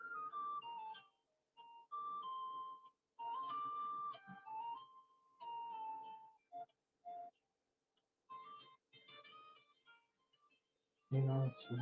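Phone ringing: a looping electronic melody of bright tones in bursts with short pauses, fairly faint, ending in a louder thump or noise.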